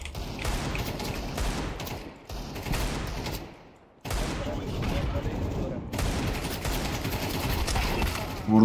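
Bursts of rifle fire in Counter-Strike 2 on the Mirage map, loud sustained volleys broken by a short lull, then resuming with heavy repeated shots.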